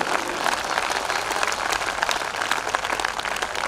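An audience at a comedy poetry gathering (hasya kavi sammelan) in Bhilwara claps steadily, with individual sharp claps poking out of a continuous, fairly loud ovation.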